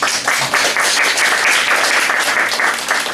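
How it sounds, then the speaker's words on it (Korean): Steady applause from a church congregation at a Saturday worship service, dense and continuous throughout with no voices over it. "박수 받으려고 한 건 아니었는데 분위기가 그렇게 됐죠"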